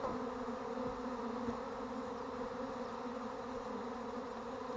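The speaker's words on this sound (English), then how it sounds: "I'll let these bees settle down just a little bit" A honey bee swarm drones in a dense, steady buzz that holds evenly throughout, close and moderately loud, with no voices.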